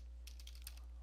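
A few quick keystrokes tap on a computer keyboard, soft and close, over a low steady hum.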